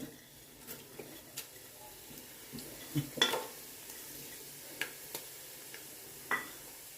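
Whole spices such as cardamom, cloves, star anise, fennel and black stone flower frying in ghee, with a soft steady sizzle and scattered light clinks and stirring taps of a utensil against the pan, no talk.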